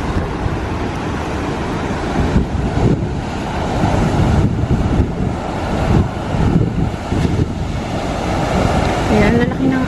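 Ocean waves break at Coolangatta Beach under strong wind, a loud rushing surf roar with gusts buffeting the microphone throughout.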